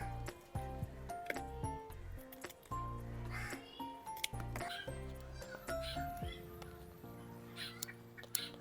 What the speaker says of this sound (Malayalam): ഇത് കേൾക്കുന്നില്ലേ? കാക്കച്ചി എന്നെ വിട്ടു പോകാതെ നിൽക്കുന്നത് ഈ മത്തി കണ്ടുകൊണ്ടുള്ള നിപ്പാണ്